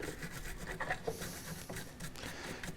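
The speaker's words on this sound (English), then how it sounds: "So take it to just a plastic brush and kind of clean it up a bit" A plastic brush scrubbing brass shavings off a case-trimming cutter blade while making 300 Blackout AAC cases, giving close, quiet, irregular rubbing strokes throughout.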